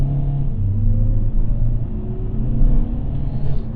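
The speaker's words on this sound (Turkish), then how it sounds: "Yol müsait ve dip gaz yaptım şu an. Biraz patinaj çekti." A 2021 Hyundai Kona 1.6 CRDi 48-volt mild hybrid diesel accelerating at full throttle in sport mode with brief wheelspin, a loud, steady engine rumble with a rising drone heard from inside the cabin.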